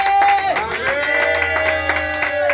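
A church congregation clapping and cheering in acclamation during a sermon, rhythmic claps under loud sustained voices and shouting, filling the whole stretch.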